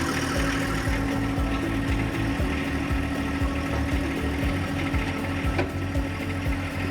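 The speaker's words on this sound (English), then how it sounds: "Start up our tractor and we're going to raise this snowblower up." A John Deere 1025R compact tractor engine idles steadily nearby with a rapid, regular chugging pulse, loud and unbroken throughout.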